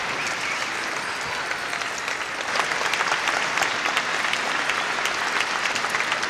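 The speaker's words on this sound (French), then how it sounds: "Georges Moira, Joël Leroux et Martial Dumas, vous pouvez les applaudir très fort." An audience at a mountain and science festival applauds warmly, a thick, sustained wash of clapping that grows slightly louder partway through, with no voices over it.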